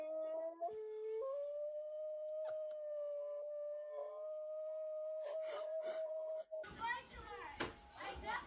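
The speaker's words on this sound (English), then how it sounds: "These two dogs are best friends and haven't seen each other in a very long time." Two dogs reunited after a long time apart howl and whimper in long, wavering, sustained cries, loud and close, ending in a burst of noisy commotion.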